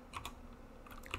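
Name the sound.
typing data on a computer keyboard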